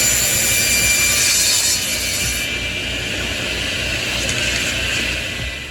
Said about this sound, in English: First I used a table saw to cut some 1/4-inch MDF to size.